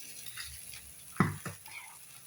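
Washed puffed rice (aval) tipped into a pan of sautéed ingredients for uppuma, giving a sudden loud sizzle and scrape of stirring, then quieter frying.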